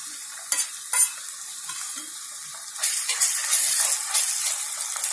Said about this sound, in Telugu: ఇప్పుడు ఇందులో అల్లం వెల్లుల్లి పేస్ట్ వేసుకుందాము